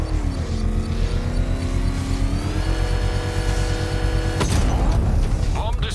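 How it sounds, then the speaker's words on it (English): A controlled bomb explosion in the Batman: Arkham Knight video game, heard as a loud sudden burst over a steady droning engine and music bed, with the blast hitting late and leaving rumbling debris after. "I can use the power winch to trigger a controlled explosion."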